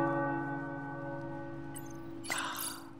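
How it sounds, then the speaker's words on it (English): Church tower bells ring out over an abbey in the video game Marvel's Midnight Suns, with sustained, layered tones that hum steadily and are joined by a brighter clang late on, with no speech. "The tower bells are ringing."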